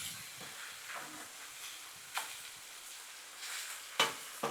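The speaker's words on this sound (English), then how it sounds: "Now let's go ahead and give our burgers a flip." Smash burgers and bacon sizzling on a Blackstone griddle, a steady soft hiss broken by a few sharp clicks and scrapes, moderately close with no talking.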